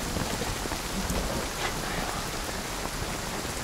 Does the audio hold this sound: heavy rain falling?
yes